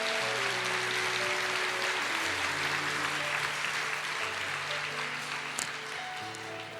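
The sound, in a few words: applause in church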